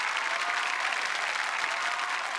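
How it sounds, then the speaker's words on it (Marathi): Loud, sustained applause from a studio audience at a Marathi comedy show's mock press conference, welcoming a play's writer-director onto the stage; dense and steady throughout with no voices over it. "जोरदार टाळ्या"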